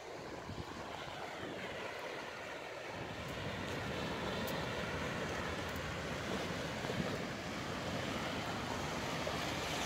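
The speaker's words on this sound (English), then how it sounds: "Is it the sea?" Adriatic Sea waves on the coast: a continuous, fairly soft wash of surf mixed with wind noise that holds steady throughout, with no talking.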